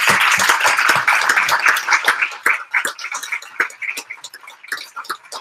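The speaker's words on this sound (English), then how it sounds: "One more round of applause for the panelists." Applause from a conference audience for a panel, a dense patter of many hands clapping that thins out and scatters into fewer, sparser claps toward the end.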